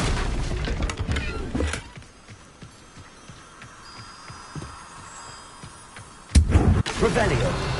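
Incendio fire spell cast in Hogwarts Legacy, a loud fiery blast at the start, a quieter rumbling stretch, then another sharp burst near the end.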